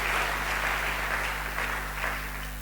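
A church congregation applauds in a steady, even wash of clapping, somewhat distant and moderately loud over a low electrical hum, with no break.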